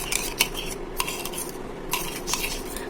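A utensil stirs fragrance oil into melted soap base for melt-and-pour layered soap, giving a few light clinks and scrapes against the container, quiet and close with no voices.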